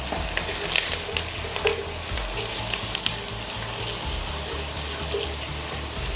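Biryani masala and whole spices such as peppercorns frying in a hot pan for tandoori chicken biryani, a loud continuous sizzle with crackles and scraping stirring throughout.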